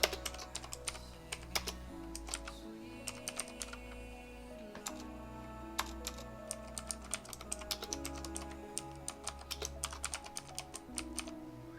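Rapid clicking of a computer keyboard as a file name is typed, steady irregular keystrokes close up over a low background hum, with no talking.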